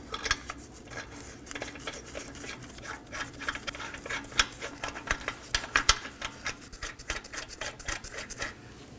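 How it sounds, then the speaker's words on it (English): Small metallic clinks and rattles come from 21mm lug nuts being hand-threaded onto the rear wheel of a 2015-2023 Nissan Maxima, with irregular light taps at close range and no talking. "Now we're going to hand thread on our 5 21mm lug nuts."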